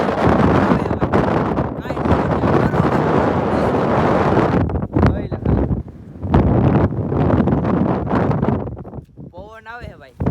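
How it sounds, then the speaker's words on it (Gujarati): Strong wind blowing on an outing in Junagadh, loud roaring gusts buffeting the microphone almost continuously, with brief lulls and a voice at the very end. "પવન આવે હે ભાઈ"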